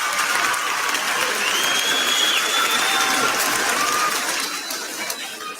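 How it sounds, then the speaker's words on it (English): Women in a radio show audience clapping, a sustained patter of many hands with faint chatter mixed in, tapering slightly near the end. "So y'all some disillusioned ladies clapping right now"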